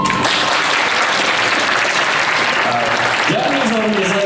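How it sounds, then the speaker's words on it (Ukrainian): Dense, steady applause from a large audience at a charity fashion show fills the whole stretch, with a brief tonal bit and a voice faintly audible near the end. "під ваші пульові оплески"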